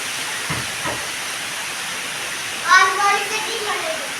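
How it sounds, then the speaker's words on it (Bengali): Heavy rain pours during a Kalbaishakhi storm, a loud, steady rushing hiss, while someone speaks over it partway through. "কালবৈশাখী ঝড়, কালবৈশাখী ঝড়ই বটে শোনা, খুব পানি পড়ছে জোরে জোরে"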